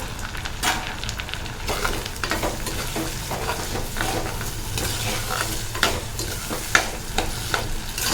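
Tomatoes with salt sauté in hot oil inside a clay pot, giving a steady close sizzle with frequent scraping stirs and occasional sharp clinks against the pot, no voices.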